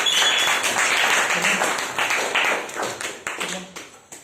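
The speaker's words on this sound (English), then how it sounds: "Please give a big round of applause, please." An audience at a Sunday morning speakers forum applauds, a full burst of clapping that thins out into scattered individual claps as it dies away.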